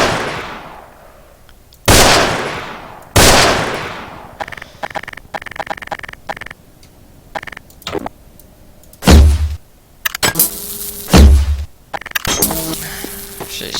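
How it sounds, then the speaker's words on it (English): Shotgun fire in the video game Heroes and Generals: several loud, sharp blasts with decaying tails, spaced a second or more apart, among clattering handling and reload clicks, with no talk. "Shotgun."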